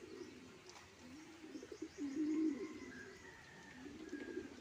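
Pigeons cooing outdoors on a trip from Dalton to Dingalan, Aurora, giving soft low repeated coos that swell midway, with faint chirps from other birds in the background.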